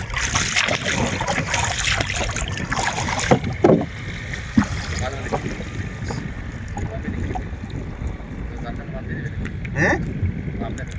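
Water sloshing and wind noise around a small fishing boat moving along a river, with occasional knocks and people talking throughout.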